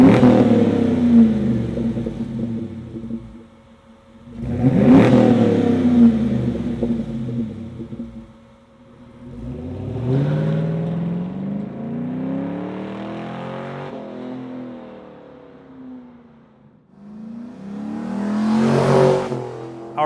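A car engine fitted with a Flowmaster performance muffler revs up in several deep, throaty pulls with falling and rising pitch, loud and close, separated by brief lulls at idle.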